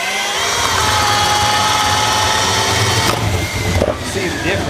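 A Bosch Daredevil 1-inch self-augering spade bit is driven by a power drill through wood, giving a loud, steady whir and grinding bite that lasts several seconds before easing and sputtering as it finishes the cut.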